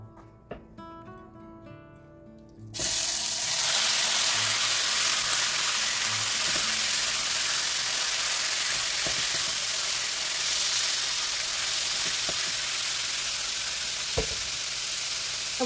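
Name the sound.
beef sizzling as it is added to a hot pan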